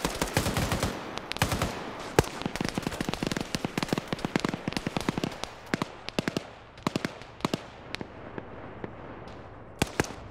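Gunfire in a competitive online shooter match, dense rapid volleys of sharp cracks and bursts, loud and mostly continuous, thinning into scattered shots toward the end, with no talking.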